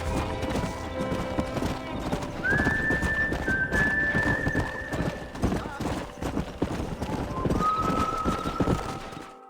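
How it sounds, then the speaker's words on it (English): Horses in the Red Dead Redemption video game clop steadily along with rapid hoofbeats, and two clear, drawn-out whinnies rise above them, with some talk in the mix. "We got some fine horses."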